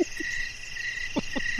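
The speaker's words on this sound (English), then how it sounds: "Crickets." Crickets chirp in a steady, shrill high drone that runs the whole stretch, with a few faint low croaks coming in and out beneath it.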